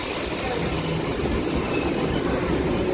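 A MEMU passenger train runs from Visakhapatnam toward Parvatipuram, with steady loud rolling rumble and broadband rail noise, close and continuous throughout.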